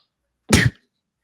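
A single sharp, explosive sneeze bursts close to the microphone in an otherwise silent moment during a sports-betting podcast. It lasts only a fraction of a second.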